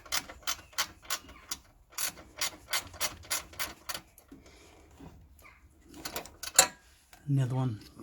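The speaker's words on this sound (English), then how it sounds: "now I'm undoing this bolt here and this bolt here. With my ratchet spanner one." A ratchet spanner loosening bolts on a car's battery tray makes a steady series of close, crisp ratcheting clicks, then slows into a few scrapes and a louder knock, with a brief clatter at the end.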